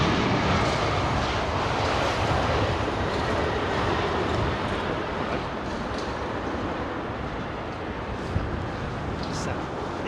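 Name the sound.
Air China Boeing 777 aircraft at Heathrow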